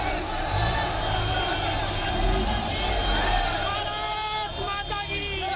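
Crowds lining the road along an Indian general's funeral procession in Delhi, a broad hubbub of shouting and slogans with some vehicle noise, moderately loud and continuous under talk.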